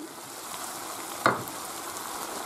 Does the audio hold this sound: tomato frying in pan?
yes